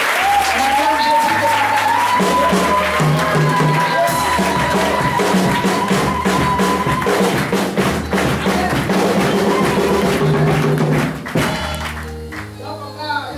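A church congregation at the foundation-stone laying for the Peniel missionary centre applauds to acclaim the Lord. Strong, sustained clapping sounds together with voices and music, then eases near the end.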